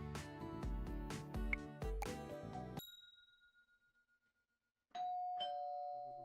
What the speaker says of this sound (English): Still early when you hear your doorbell ring.